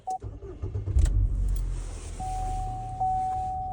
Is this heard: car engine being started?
yes